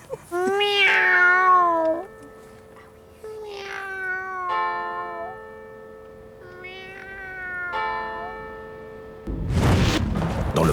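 Small kittens meowing loudly and repeatedly at close range, several drawn-out high cries in a row, followed by a brief burst of rustling noise at the end.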